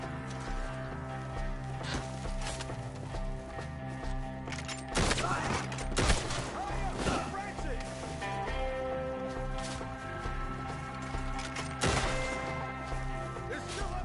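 Gunshots crack intermittently through a Red Dead Redemption II shootout, with sharp reports against a steady musical background and voices talking in between.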